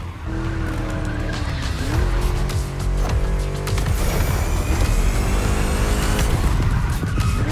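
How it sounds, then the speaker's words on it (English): A V8 car engine in The Crew Motorfest roars continuously through a lap, loud and close, with rising and falling revs as the car accelerates and shifts, and tires squealing in a skid. "Just listen to that V8, like a chunky, down-tuned guitar riff"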